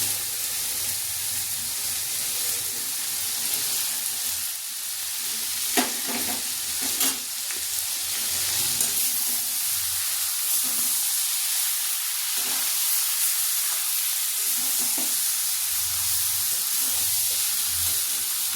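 Kachki fish fry with potatoes in a pan, giving a steady loud sizzle and hiss with scattered clicks of stirring throughout.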